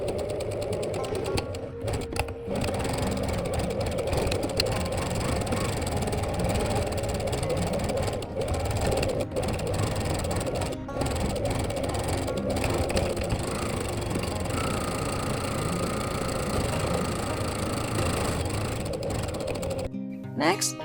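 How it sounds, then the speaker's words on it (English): A sewing machine stitches batting and lining in a rapid, steady mechanical whir, running almost continuously with a few short pauses, close and fairly loud. "Place the batting on top of the wrong side of the lining, pin in place, and take it to the sewing machine"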